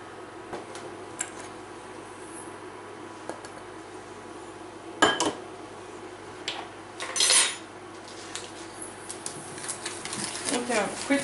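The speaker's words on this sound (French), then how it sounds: "On vient fouetter donc nos jaunes avec le sucre." Egg yolks and sugar are whisked in a bowl, producing light clinks and taps of metal on the bowl, sparse at first, then a brief cluster of louder rattling strokes, with quicker whisking toward the end.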